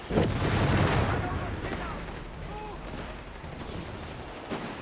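Rifle fire and battlefield booms from the real-time strategy game Company of Heroes 3, a DAK versus USF match, crack in bursts with distant rumbling explosions while a commentator talks over the action.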